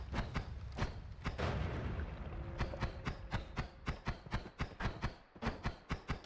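Rumbling, crackling brimstone spell explosions in the game Noita, a dense burst of booms early on followed by a rapid run of sharp thuds and pops, moderately loud with no talking.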